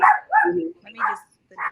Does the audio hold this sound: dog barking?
yes